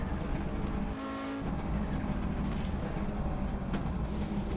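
An Audi Sport Quattro S1 climbs Pikes Peak in a racing game, its engine droning loudly and continuously, with a brief dip in pitch as it downshifts before pulling again.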